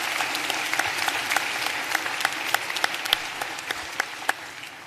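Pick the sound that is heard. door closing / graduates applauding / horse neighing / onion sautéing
graduates applauding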